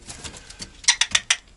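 A pet pigeon or dove coos and flutters close by indoors, a short series of soft throaty pulses followed by several sharper bursts.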